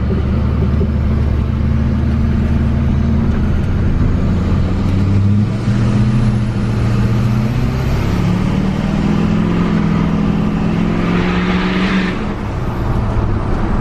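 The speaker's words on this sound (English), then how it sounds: "That's what it sounds like with the 4-inch exhaust." An LBZ Duramax diesel truck engine with a 3-inch downpipe and 4-inch exhaust rumbles steadily and loudly throughout, with a deep, throaty exhaust tone that swells and revs slightly around the middle.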